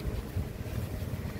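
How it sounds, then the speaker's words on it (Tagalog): Strong typhoon wind in Taipei City buffets the microphone with a low, rumbling roar, a brief continuous gusty blast without voices. "Tapos yung hangin"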